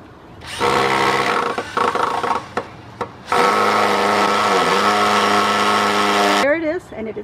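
A power drill drives a screw into wood while making a bottle opener plaque with a basket, a steady high whine that runs in two long bursts separated by brief pauses, close and loud.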